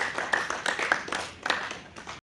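Audience clapping at a literary tribute meet, a short burst of scattered hand claps at moderate distance that rises and fades over about two seconds.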